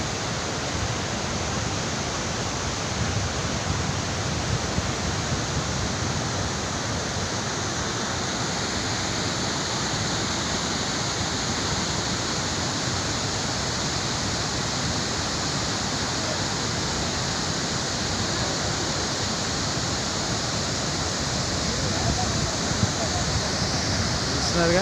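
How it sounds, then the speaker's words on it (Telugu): Bogatha waterfall in Telangana, a steady broadband roar of rushing, falling water, loud and unbroken throughout with no distinct events. "చాలా అద్భుతమైన వాటర్ ఫాల్స్ ఇవి. తెలంగాణలోని ఒక మంచి వాటర్ ఫాల్స్ అని చెప్పుకోవచ్చు."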